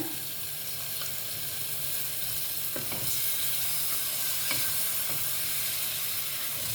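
Chicken biryani masala mixed with curd frying in a pan, with a steady sizzling hiss and a few spoon scrapes against the pan as it is stirred.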